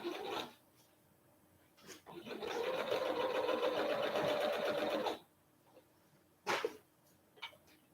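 A sewing machine runs a steady stitching burst for a few seconds on a seam of a Remy Raglan garment, close and fairly quiet, with brief handling rustles before and after.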